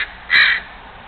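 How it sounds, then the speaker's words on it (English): A crow gives one short, harsh caw close by during a standoff with a squirrel, set against faint outdoor background noise. "The bird's calling for reinforcements."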